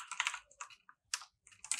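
Rapid clusters of computer keyboard keystrokes clatter close and crisp, in short bursts separated by brief pauses, with no talking.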